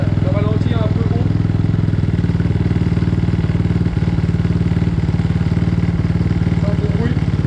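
A cold CRZ 250 motorcycle idles on its original exhaust with a steady, close, rapid thumping beat. A single knock cuts in partway through, and a brief voice may be heard near the start.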